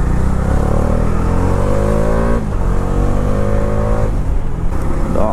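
A Bajaj Dominar motorcycle's exhaust note, loud and close, with the engine revving up in rising pitch, dropping, then climbing again as the rider accelerates.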